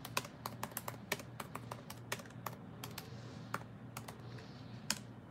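Steady typing on a computer keyboard, quick irregular key clicks with occasional louder taps, close but soft, continuing for several seconds with no talk.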